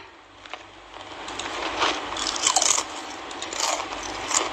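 Close crunching and chewing of thin, crisp banana chips made from Hom bananas, with irregular brittle crackles building in intensity, no talking.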